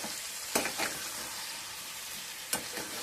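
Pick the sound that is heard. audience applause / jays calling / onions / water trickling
onions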